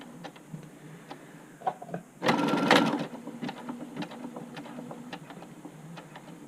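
A hand-cranked sewing machine stitching through an upcycled button-up shirt, giving a quick run of clattering mechanical ticks with a louder burst in the middle, close up, followed by lighter scattered clicks.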